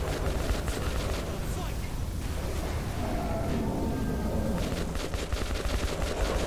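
Dense gunfire in the video game Metro 2033, with rapid automatic bursts and heavy rattling shots filling the scene continuously and a voice shouting over it.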